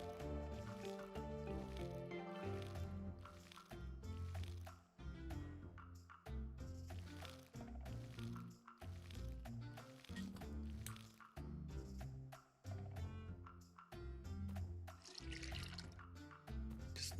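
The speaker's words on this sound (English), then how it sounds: "we've got to water all my other crops" Crops being watered in the farming game Sun Haven: a repeated series of soft wet squishing splashes at a regular, even pace, each followed by brief drips, with faint background music.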